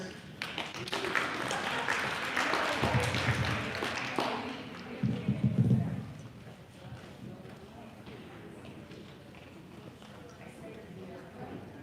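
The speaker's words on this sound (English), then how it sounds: "Round of applause for all the winners." An indoor audience at a National Crime Victims' Week event claps for award winners, a burst of scattered clapping that fades after a few seconds while people talk.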